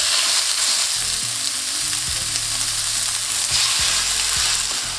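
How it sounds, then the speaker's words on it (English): Beef mince dropped into a pan of hot oil over medium-high heat, giving a loud, steady sizzle that runs unbroken throughout, with a few soft low knocks of the pan beneath it. "When nice and hot, in with your beef mince."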